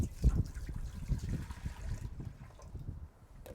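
A liter of water is poured into a pot to make a brine, giving a steady close trickle and splash that runs throughout and thins out slightly toward the end, with no talking.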